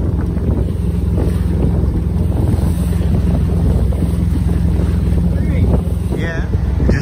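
A sailboat runs past Norris Castle on the east side of Cowes, Isle of Wight, its passage carried on a steady, loud rush of wind and water with constant microphone buffeting throughout.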